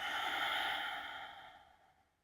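A long, deep breathy exhale during yoga breathing, close and steady at first, then slowly fading away to quiet over about two seconds.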